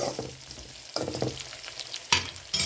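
Sautéing ingredients for a dried fish curry, a utensil stirs and scrapes in a pan in short bursts over a low sizzle, close and fairly quiet, with no speech.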